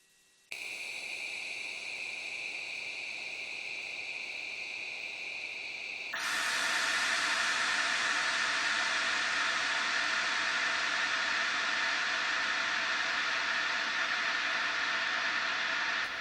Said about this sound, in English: I'll bring the input gain down a bit so we can start to hear the noise floor